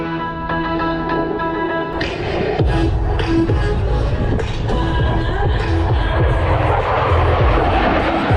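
An F-16 Fighting Falcon jet flies past during an air show demonstration: a loud, sustained engine roar that swells into a broad rushing blast partway through, with reverberant rumble continuing to the end.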